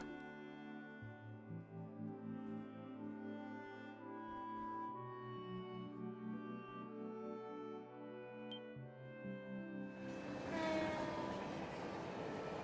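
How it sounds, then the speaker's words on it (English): At night in the video game Trails from Zero, a train rolls past with sustained tonal hum and horn-like notes, then a loud burst of rushing clatter as it sweeps by near the end. "The last train bound for Calvert."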